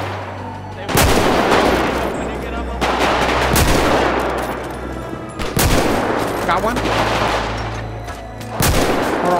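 Gunfire in GTA 5 roleplay comes as loud repeated bursts and sharp cracks over a constant low rumble, with a brief voice speaking amid the shooting.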